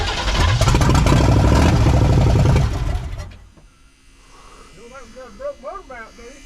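A 1979 Chevrolet 350 V8 is cranked and runs loud and rough for about three seconds, then cuts out, leaving quiet background sounds and people talking.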